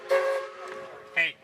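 A steam whistle sounds in short tonal blasts with a harmonic, breathy tone, heard at a Kentucky steam whistle blow, with a brief second toot at the end and faint voices around.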